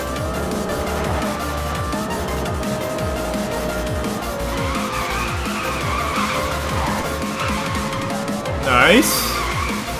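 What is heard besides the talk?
Audi R8 GT Spyder drifting with tire squeal in NFS: Most Wanted video game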